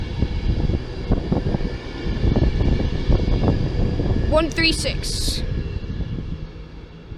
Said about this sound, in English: And off it goes. City of Coventry, Virgin Pendolino to London Euston.